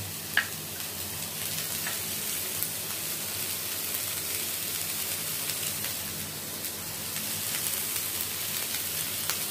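Mushrooms seasoned with salt and pepper cook in a pan with a soft, continuous sizzle, quiet and close, broken by a few faint pops.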